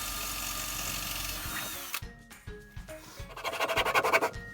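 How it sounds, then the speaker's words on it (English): A power drill bores through the metal wall of a van being built out, steady whine first, then a pause and short bursts, ending in a rapid pulsing grind as the bit bites. "Chris did so much work having to drill through the metal"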